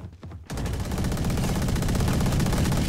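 Sustained automatic gunfire in the Valorant shooter game, a dense, rapid, loud stream of shots that starts abruptly after a brief quiet moment and continues without a break.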